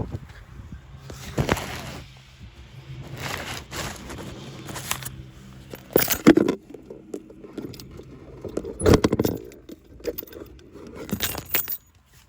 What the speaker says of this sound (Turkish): Şu ayaklığı şöyle indiriyoruz.